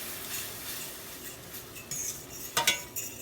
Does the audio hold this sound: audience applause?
no